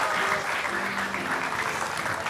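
Steady applause from a TV talk show studio audience fills the whole stretch, dense and continuous clapping at fairly even loudness.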